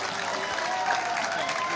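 Audience applause at a live Punjabi stage show, a steady broadband wash of clapping and crowd noise sustained throughout at moderate loudness.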